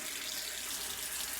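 Tap water runs steadily into a sink in a soft, even hiss that stays constant and fairly quiet throughout, with nothing else heard.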